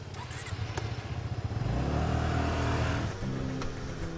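A moped engine hums and rises as the rider moves along, a steady close drone that swells midway and carries on with faint clatter, with no voices heard.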